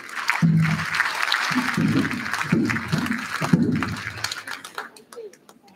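Audience clapping at a tribal State of the Nation address, bursts of applause rising and fading over several seconds, with a voice speaking over and after it.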